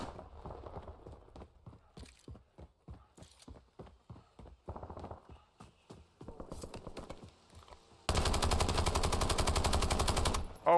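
Gunfire in Warzone, a battle royale shooter: scattered sharp shots in quick irregular bursts, then a long dense roar of sustained firing near the end, loud and close.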